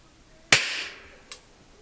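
An Arsenal RS-1 knife gun fires old ammunition outdoors, one sharp close crack with a brief ringing tail, followed by a fainter second click or pop a moment later.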